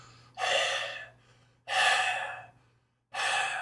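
A human voice imitates out-of-breath panting for a video game sprint stamina cue: three long, loud, breathy exhalations at a slow even rhythm, separated by short silences, close to the microphone.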